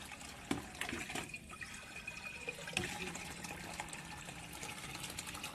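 Water runs from a tap into a container, a steady broadband rush with a couple of sharp clanks and a faint whine partway through, fairly close and continuous throughout.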